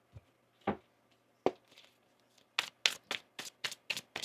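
Tarot cards being shuffled close up: a few isolated riffles and taps at first, then a quick run of six crisp, evenly spaced shuffling bursts, faint and dry with no voices.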